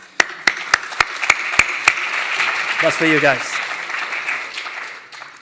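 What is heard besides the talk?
audience applause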